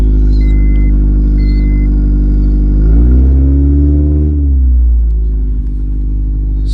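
A catless Acura Integra engine, its catalytic converter fallen off, revs up loudly from a steady idle, the harmonic drone rising mid-way and settling back down, close and alone with no voices.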